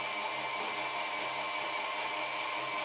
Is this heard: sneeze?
no